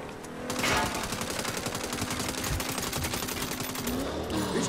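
Sustained automatic gunfire in Saints Row on PlayStation 4 Pro, a rapid, continuous rattle of close shots running without pause for several seconds.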